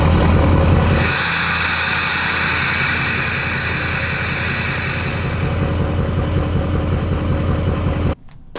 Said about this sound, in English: This is a downpipe back, straight pipe, no muffler, no anything.